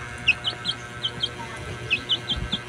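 Chicks chirp in short, high, repeated peeps at an irregular pace, some close together in pairs, over a faint steady low background hum.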